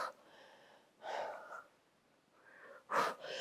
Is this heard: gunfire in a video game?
no